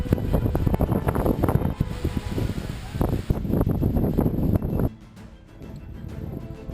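Strong coastal wind on Île d'Aix, buffeting the microphone with loud, rumbling gusts for about five seconds, then easing to a lower, steadier blow.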